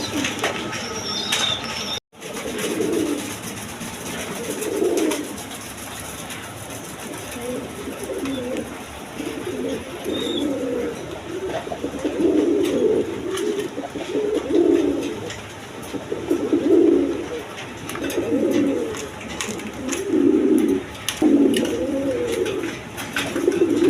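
A pair of Rajgolla pigeons coo repeatedly in a steady series of low, throaty bursts, close and moderately loud over faint background noise, with a brief flutter of wings near the start.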